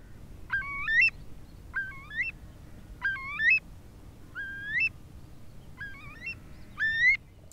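A curlew gives its breeding-season flight call, six clear rising whistles repeated at an even pace over quiet background, each call fairly close and distinct.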